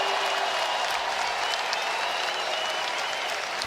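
A basketball arena crowd in Birmingham applauds loudly and continuously during an Auburn Tigers versus Purdue Boilermakers game, a thick, even roar of clapping and cheering with no breaks.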